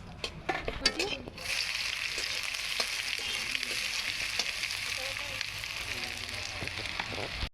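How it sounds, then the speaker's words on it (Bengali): Dried red chilies fry in hot oil, a steady, close, loud sizzle that starts abruptly after a few scattered clinks and continues unbroken to the end. "সেটা ঢেলে দিচ্ছি শুকনো লঙ্কা পাঁচফোড়ন নেই"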